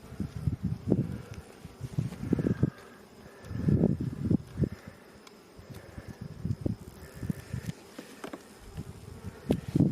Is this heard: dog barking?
no